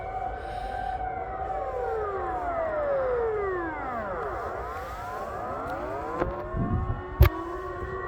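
A civil defense siren sounds during a test, wailing and sweeping up and down continuously, with overlapping tones from several distant units and a sharp click near the end.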